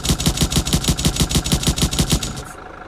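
Rapid automatic gunfire in an Unreal Engine 5 game, shots aimed at a turret: a steady, loud burst of evenly spaced shots for about two and a half seconds, then it cuts off abruptly.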